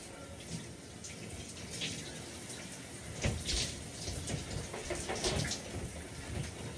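Cold shower water runs in a steady, faint hiss with light splashing throughout.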